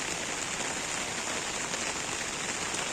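Rain falling on guava trees on a wet day, a steady, dense hiss of drops pattering on leaves, even and unbroken throughout with no voices.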